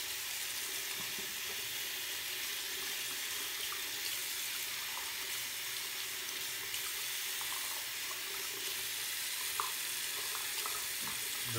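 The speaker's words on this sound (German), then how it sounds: "Und etwas mit Wasser abspülen." The removed head of a Braun Series 9 Pro electric shaver is rinsed under a running tap, producing a steady, even hiss of flowing water that stays close and unbroken throughout.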